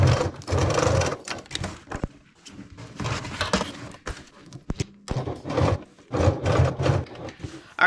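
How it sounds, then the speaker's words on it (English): A sewing machine bastes fabric side connectors onto a backpack back panel in short stitching bursts separated by brief pauses and small handling knocks. "let's go to the sewing machine, and we are going to base stitch our side connectors to the back panel"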